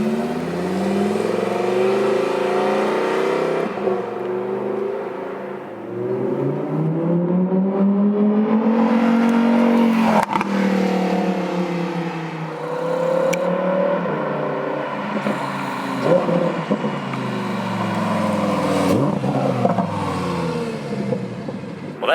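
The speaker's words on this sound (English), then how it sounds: "That has so much muscle to the way that V10 sounds." A 2020 Lamborghini Huracan EVO V10 in Corsa mode accelerates hard, its engine note rising and falling through several gear pulls with sharp shifts, loud and close, with no talk over it.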